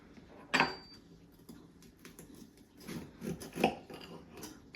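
A utensil cutting into a hot bacon-wrapped potato bite on a plate, with a sharp scrape early on and a cluster of soft clinks and scrapes later, close by and fairly quiet.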